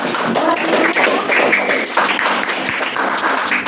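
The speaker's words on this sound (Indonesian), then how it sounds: "Kita kasih aplaus dulu." A classroom gives a round of applause, dense continuous clapping from many hands nearby, steady and fairly loud for a few seconds.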